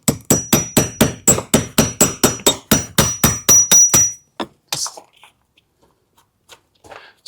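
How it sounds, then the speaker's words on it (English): A chisel works wood out of a door hinge recess with a quick, even run of about a dozen sharp knocks up close, then a few scattered scrapes and taps before quiet. "grab a chisel like this and just kind of shave the rest of it off"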